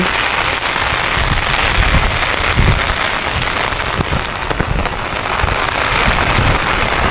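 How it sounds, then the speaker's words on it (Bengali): Heavy rain pours steadily onto surfaces at a wetland, a dense continuous patter with occasional louder drops and thumps, no voices. "বৃষ্টিও নামলো"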